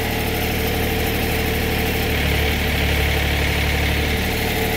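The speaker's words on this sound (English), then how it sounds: "He's raising his roller. He's going to get that raised up first flat." Sawmill engine idling steadily while the hydraulic cylinder raises the roller on a cedar-cutting sawmill, a constant mid-low drone with a slight deepening strain partway through, no voices.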